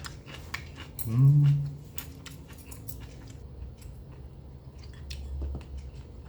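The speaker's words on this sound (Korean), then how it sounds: "김치는 무생채하고 겉절이 같이 먹어보겠습니다" Someone eats kimchi with radish salad and freshly made geotjeori, giving a close, brief wet crunch and squish of chewing, then soft intermittent mouth sounds and small clicks.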